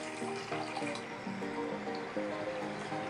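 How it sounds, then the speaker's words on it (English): Milk poured into a saucepan, producing a continuous gurgling stream whose pitch rises in steps as the pan fills, close and clear with no talking. "I'm adding 1 liter of milk or around 4 cups of milk into a saucepan."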